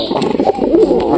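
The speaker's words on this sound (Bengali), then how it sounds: "পায়রার ডাকটা দেখো কত সুন্দর।" Domestic pigeon cooing up close in a loft with egg-laying pigeon pairs, a steady low throaty coo rolling continuously through the short moment with no talk over it.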